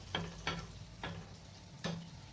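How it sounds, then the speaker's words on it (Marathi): Anarse, a jaggery festival sweet, deep-fry in plenty of oil with a quiet bubbling sizzle, broken by four soft, rhythmic clicks as the pieces are gently moved around. "असं हलवून हलवून आपल्याला छान असं ही अनारसे तळून घ्यायचेत आपले"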